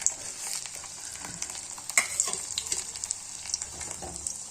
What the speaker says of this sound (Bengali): এই যে এখানে কোফতার পাকোড়াগুলো তৈরি করা হচ্ছে